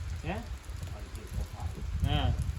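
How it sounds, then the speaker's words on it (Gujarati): Light drizzle gives a steady, soft hiss throughout while a voice talks over it. "અને વરસાદ કેવો વરસે છે"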